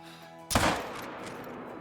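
A 45-70 pistol fired at a Cape Buffalo about 85 yards away in the hunting video game Call of the Wild: a single loud, sharp gunshot that breaks a quiet hum and rolls into a long, fading echo.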